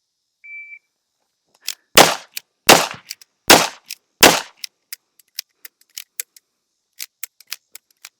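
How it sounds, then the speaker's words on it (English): A pistol fires six sharp shots from the hip at targets in two quick bursts, loud and close, followed by a scatter of small clicks and metallic pings. "2 rounds per target, 6 shots total."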